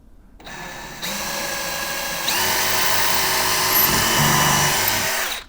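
A power drill drilling holes in a door hinge area whirs up and runs steadily, its pitch stepping up as it speeds, then winds down after several seconds of continuous drilling.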